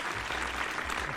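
An applause sound effect plays at the close of a Formula 1 podcast, a steady, dense wash of clapping at low level throughout, with no voices over it.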